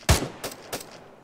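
Three sharp gunshot-like bangs during platoon jungle training drills, one strong report followed by two softer ones at irregular spacing, fairly close, with no talking.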